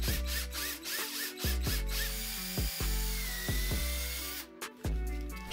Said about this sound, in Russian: С помощью сверла на 6 нужно рассверлить шприц.